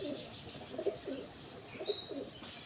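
A pigeon with white eyes coos softly several times in a row, low rounded calls that repeat close by over faint background noise.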